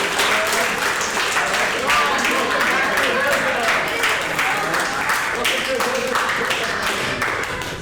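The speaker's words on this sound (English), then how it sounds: "Big round of applause for Sean." Applause for a karate sensei during a live class, steady clapping from a group that continues evenly at close range for the whole stretch, with no talking over it.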